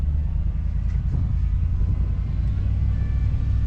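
Toyota Tundra pickup rolling through tall grass near a lake, its steady low engine rumble loud and close throughout with a dense continuous drone and no voices.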